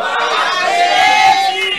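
A church congregation at a Christian colloquium shouts "glory to Jesus" together, a dense, sustained mass of raised voices in a loud, reverberant hall.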